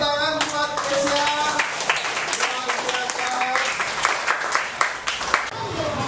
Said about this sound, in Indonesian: ayo tepuk tangan buat Kesia